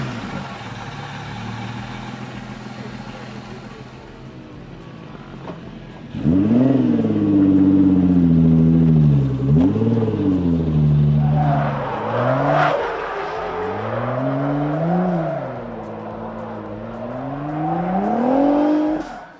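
A Koenigsegg hypercar's twin-turbo V8 idles softly, then revs hard and loud in repeated rising and falling sweeps, with a brief dip before climbing again.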